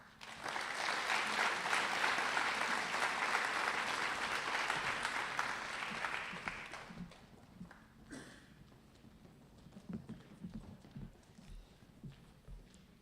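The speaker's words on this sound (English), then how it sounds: "Please join me in a round of applause as our Green Hand Committee exits the stage." At a high school agricultural program's spring banquet, a crowd applauds as a student committee leaves the stage. The strong, steady clapping lasts about seven seconds and then fades, followed by scattered footsteps and faint room noise.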